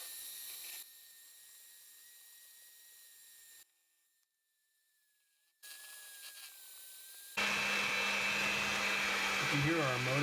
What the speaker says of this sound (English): You can hear our motor bogging down, so we're going to switch to hand mixing